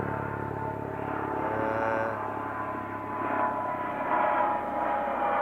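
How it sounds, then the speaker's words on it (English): A helicopter passes overhead, a low rumbling drone that swells and fades gently over a few seconds, moderately distant, with no talk. "there's a helicopter coming this way"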